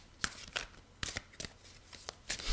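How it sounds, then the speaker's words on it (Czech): Tarot cards are shuffled in quick riffling bursts, a series of crisp ruffling snaps close to the microphone in a quiet room. "Ještě mám míchat, tak ještě budu míchat."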